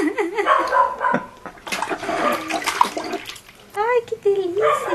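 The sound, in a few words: splashing water during a bath in an ofuro tub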